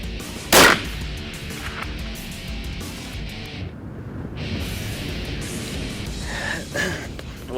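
A single sharp rifle shot fired at a steel target 1,000 yards away, cracking loudly at the start over steady outdoor wind noise, followed by a long stretch of windy ambience.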